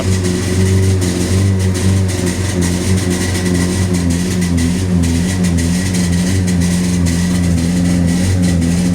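A Volkswagen Sharan 2.0 petrol engine runs steadily nearby, a loud low droning hum with a constant pitch and no speech over it.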